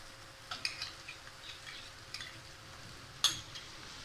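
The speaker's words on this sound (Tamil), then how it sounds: "இதையும் நல்லா வதக்கிக்கணும் எண்ணெயில்." Ground masala paste sautés in oil for a chicken curry, a quiet soft sizzle underneath, broken by a few light spatula scrapes and one sharper clink against the pan.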